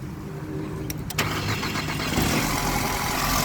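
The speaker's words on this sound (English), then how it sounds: "That's going to start the car." A 2013 Mercedes-Benz C250 engine cranks briefly and catches, then settles into a steady close idle after a few quick starter clicks.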